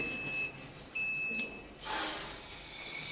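An oven timer beeps in bursts after fifteen minutes of roasting marinated chicken, a steady high electronic tone pulsing on and off, then stopping as faint kitchen noise rises.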